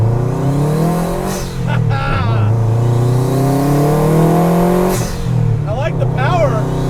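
A 400 HP Factory Five 818C engine roars loudly as it accelerates uphill, pitch rising steadily through the gears, with brief dips between shifts and a voice speaking over it.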